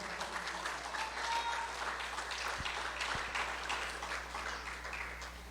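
Church congregation clapping together in worship, a steady, dense wash of applause running the full length at moderate level with no voices over it.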